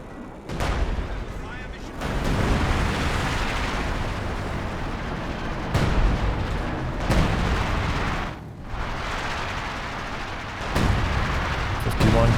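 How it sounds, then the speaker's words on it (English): Howitzer artillery fire in Company of Heroes 2 during a 4v4 battle on the Lienne Forest map, with several heavy booming shots rolling into a dense, continuous wash of distant battle rumble and crackling gunfire, loud throughout. "This howitzer is continuing to get the damage done"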